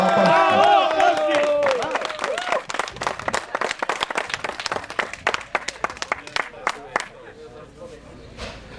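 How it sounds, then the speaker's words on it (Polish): Clapping and crowd noise at a Polish automobile club motorsport award ceremony, with a voice over the start. The applause then thins into scattered, uneven claps. "to oklaski"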